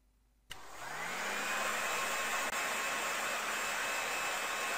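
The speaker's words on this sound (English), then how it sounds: "The heat from the hairdryer melts the ice cube." A hairdryer in a kids' video game switches on with a click and spins up into a steady whooshing hum that melts an ice cube, continuous and alone with no voices.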